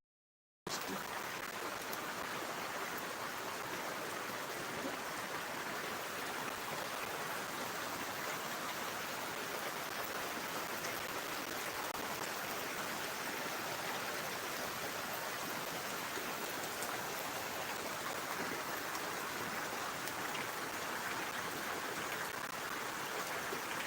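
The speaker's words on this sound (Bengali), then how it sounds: "দেখতেই পাচ্ছ বন্ধুরা কীরকম বৃষ্টি হচ্ছে" Heavy rain pouring down, a dense, steady hiss of drops on surfaces that stays even and unbroken for the whole stretch, with no voices.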